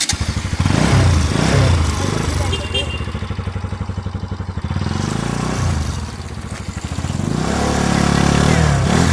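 A motorcycle engine runs close by with a throbbing, pulsing note that dips and then revs back up, while people talk over it.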